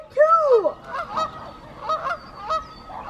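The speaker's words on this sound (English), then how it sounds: "I've never seen the geese this close to the house before." Geese near a house give a loud, close honk followed by several shorter, softer honks in a loose sequence, set against light outdoor background noise.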